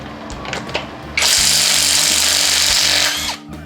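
An OSUKA electric impact wrench hammers loose a tight bolt in one loud, continuous rattling burst of about two seconds, preceded by a few faint clicks and handling noises at close range.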